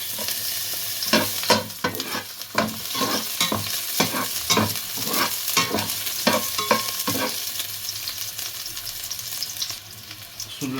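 Garlic sautéing in a hot wok for seafood sotanghon guisado, heard as a loud, close sizzle punctuated by repeated scraping strokes of a spatula in a quick, uneven rhythm.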